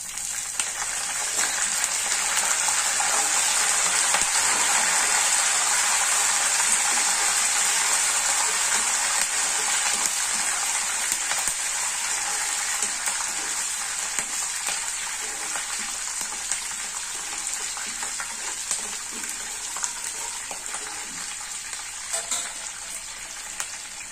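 Curry leaves fry in hot oil in a pan, giving a steady, loud crackling sizzle that lasts throughout with little change in level, and no talking.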